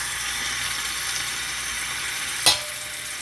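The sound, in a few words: fish frying in a small pot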